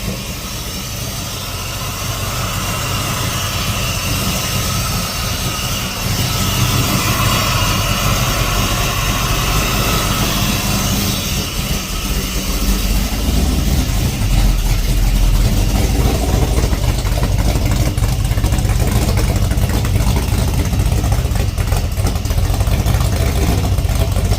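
A Ford Falcon XB GS Hardtop engine idles steadily and loudly for the whole stretch, a constant low rumble with no voices.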